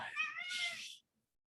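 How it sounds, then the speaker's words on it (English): A house cat gives one drawn-out, loud and close meow lasting about a second, followed by near silence. "It's my cat."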